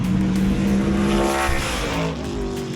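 Race cars running at Sebring race track, a loud engine roar with revving tones that rise and fall as cars pass, continuous and fairly near, ending a little quieter.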